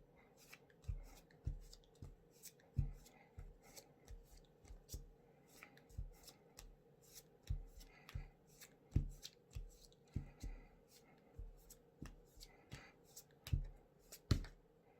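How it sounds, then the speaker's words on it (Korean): Tarot cards shuffled and picked by hand during a reading, a steady run of soft papery riffles, slaps and snaps spread across the whole stretch, close and fairly quiet with no talking. "마음을 담아서 카드를 골라보도록 할게요"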